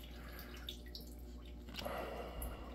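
Water from an LG washing machine's drain filter runs and drips into a plastic Cool Whip topping container, a steady low trickle with a slightly fuller splash near the end.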